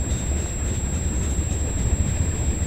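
A CN freight train rolls past with a steady, dense rumble and rail noise, continuous and fairly loud for the whole stretch, no voices.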